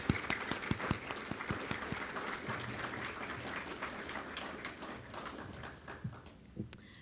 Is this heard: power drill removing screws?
no